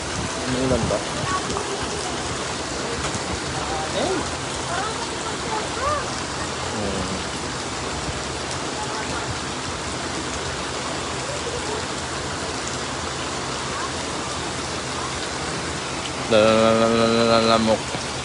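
Steady rain falls throughout, a dense even hiss of drops on surfaces that stays constant, while a voice speaks briefly over it and a louder tonal sound cuts in near the end.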